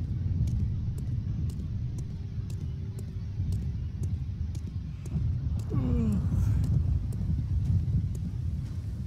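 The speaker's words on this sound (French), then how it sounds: "une tempête qui se lève" A stormy gust of wind rises in the survival game Sunrise Survival, a constant low roaring rumble with whooshing swells that grows slightly louder toward the end, joined by faint periodic ticks.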